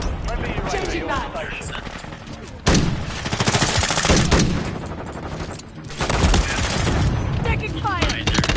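Heavy gunfire in Call of Duty Modern Warfare 3, rapid automatic bursts and sharp cracks coming in loud waves with brief lulls, a voice speaking amid the shooting.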